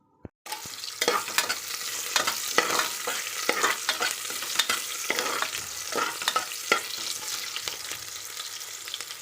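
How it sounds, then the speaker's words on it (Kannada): Food fries in masala in a pan while being prepared for biryani. A short click is followed by steady loud sizzling with repeated rhythmic spatula scrapes and stirs throughout. "ಇದನ್ನು ಮಸಾಲೆಯಲ್ಲಿ ಒಂದು ಸ್ವಲ್ಪ ಫ್ರೈ ಮಾಡ್ಕೊಂಡಿದ್ದೀನಿ"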